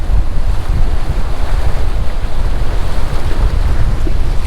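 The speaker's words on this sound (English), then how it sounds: "This ocean is stirred up." Stirred-up ocean surf breaking on a windy beach, a loud continuous roar of crashing waves with heavy wind buffeting the microphone throughout.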